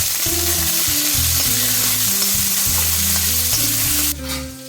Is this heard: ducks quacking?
no